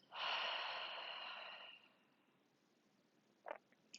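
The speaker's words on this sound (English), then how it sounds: "An audible exhale out." A single audible exhale during a gentle home yoga class, a loud breathy whoosh lasting about a second and a half that fades out, followed by faint small mouth sounds.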